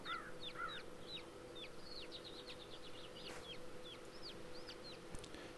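Chickens in the ArcheAge farming game cluck and chirp in a repeated run of short calls over a low, steady ambient hum, fairly quiet, with no speech.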